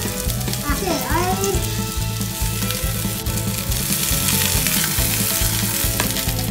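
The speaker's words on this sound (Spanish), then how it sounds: "Y una vez que tenemos todos los ingredientes listos, vamos a saltearlo." Cauliflower and broccoli in extra virgin olive oil sizzle loudly in a wok as they are stir-fried, a close, steady frying hiss with rhythmic low knocks from tossing and stirring.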